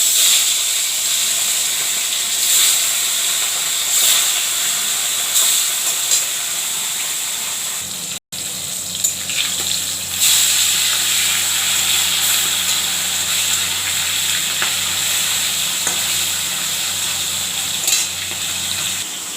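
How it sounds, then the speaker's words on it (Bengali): Pieces of katla fish fry in hot oil in a home kitchen, a strong continuous hiss and crackle with sputtering bursts, close-up and fairly loud, briefly cut off midway before the sizzling resumes, with nobody speaking. "মাছটা ভাজি"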